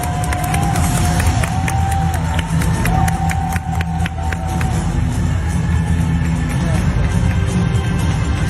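A crowd at a brand's 29th anniversary celebration in Thailand claps and cheers, a loud continuous roar with whoops, over a steady low music bed with tones drifting through.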